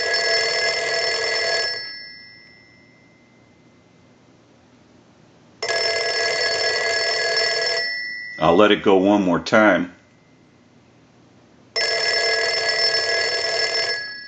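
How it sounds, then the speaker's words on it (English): A Western Electric 302 rotary desk telephone bell rings loudly in three long bursts with pauses between, and someone speaks briefly between the second and third rings. "we want to ring the telephone with the analyzer"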